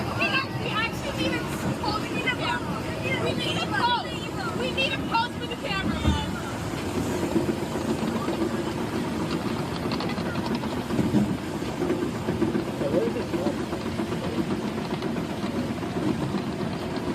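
Great Bear roller coaster train at Hersheypark running through a helix before the drop: a steady, loud roaring rumble with rattling that lasts throughout, with riders' voices and crowd chatter mixed in.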